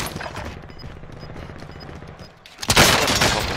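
A sudden loud burst of video game gunfire erupts near the end of a low rumbling battle ambience, sharp and close, with no talking over it.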